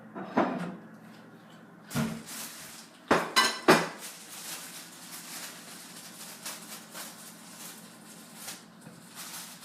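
A plate is taken out and handled in a kitchen while hot dogs are made, giving several close, loud ceramic clinks and knocks near the start and middle, followed by softer rattling of dishes and cutlery.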